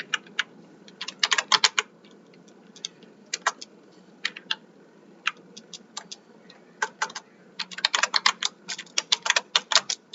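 Someone types a filter condition on a computer keyboard in Sharekhan Trade Tiger trading software, with close, crisp keystrokes in scattered bursts and short flurries separated by pauses and no talking.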